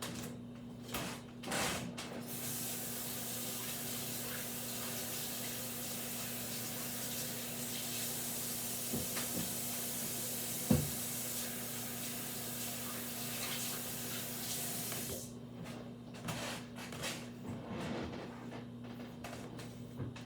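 A kitchen faucet runs in a steady, hissing stream while hands are washed between steps of cooking salmon Marsala. Brief handling knocks come at the start and a small clatter midway.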